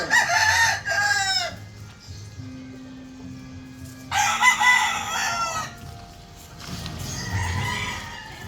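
Roosters at a gamefowl farm crow loudly in repeated calls, one near and others overlapping, with clucking and farmyard murmur between.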